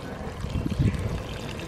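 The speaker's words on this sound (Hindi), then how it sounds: "थोड़ा सा पानी डालेंगे इसमें" Water pours steadily into a pot of kofta pulao rice for a moment, a low gurgling splash that builds slightly in the middle before settling.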